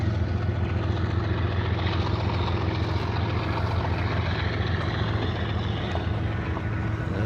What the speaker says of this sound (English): Yeah, there's just all kinds of train activity here.